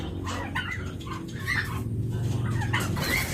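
Chickens, turkeys and ducks cluck together at feeding time on a farm, a steady jumble of close, overlapping fowl calls over a low background hum.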